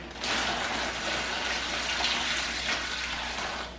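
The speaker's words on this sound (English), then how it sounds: "I'm now pouring it into the bag" Brine poured into a bag over a brisket being cured for salt beef, a continuous close splashing, gurgling pour lasting a few seconds with no talking.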